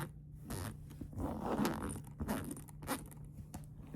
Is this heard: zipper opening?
yes